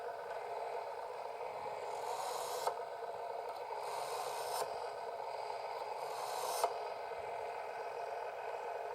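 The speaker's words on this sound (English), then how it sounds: "Normally you can sharpen a stainless steel knife with 3 or 4 strokes on both sides of the blade" A stainless steel knife is drawn through a Smith's Diamond Edge electric diamond sharpener, a steady motor whir carrying three or four rasping strokes that rise and fall at regular intervals, heard up close with no talk.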